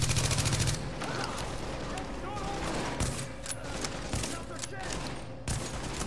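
A burst of rapid gunfire in a video game match, a quick rattling string of shots followed by scattered further pops under ongoing voices and game noise.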